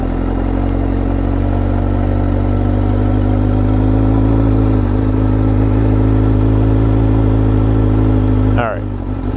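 A motorcycle idles and rolls slowly on its own with the clutch out, a steady loud low engine drone with faint clatter that cuts off abruptly near the end with a brief rising whine.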